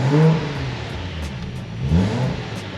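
A BMW M235i with a stage 2 upgrade revving nearby, two quick throttle blips that flare up and fall back toward a slightly stuttery idle, heard alone and fairly loud.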